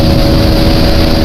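A motorbike (an NS) ridden fast and hard on a road, its engine droning loud and steady with strong low rumble and constant wind-like roar throughout, no voices.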